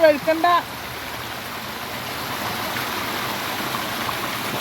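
Steady rushing water overflows a drain and floods along a road, a continuous close wash of noise following a short burst of talking at the start.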